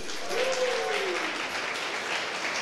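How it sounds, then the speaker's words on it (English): A room full of clapping at a finance career-day talk, dense, even applause lasting throughout with a brief vocal sound near the start. "Can I have a round of applause"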